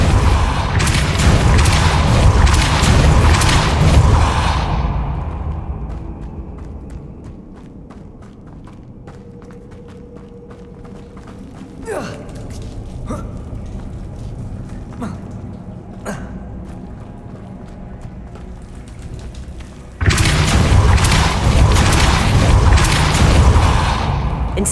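A Repulso spell blast in the video game Hogwarts Legacy, a loud booming burst of combat noise that fades into quieter ambience with a few sharp hits, then a second loud surge near the end.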